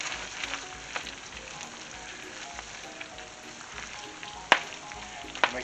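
Butter and baking powder being stirred into hot spicy peanut brittle in a pan, a steady frying sizzle with occasional sharp scrapes and clicks from the stirring utensil.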